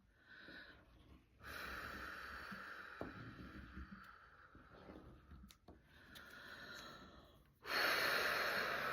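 A person takes a deep breath and blows it out in long, airy exhales, quiet and close, with a few separate breath bursts and a stronger final release. No talking.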